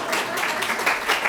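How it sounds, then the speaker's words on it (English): Audience applause welcoming a guest at an art presentation at New York University, a steady wash of many hands clapping throughout, fairly loud and continuous with no pauses. "please welcome him with an applause"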